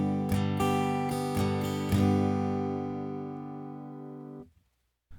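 A Martin 000 acoustic guitar heard through an LR Baggs Anthem SL pickup with an internal microphone, a few strummed chords ringing out close and clear, then decaying into near silence.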